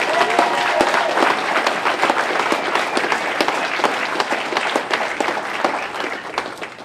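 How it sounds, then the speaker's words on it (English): At a school education foundation awards event, an audience gives a sustained round of applause for teachers, steady dense clapping filling the room for several seconds, with faint voices mixed in. "Let's give these teachers a big round of applause."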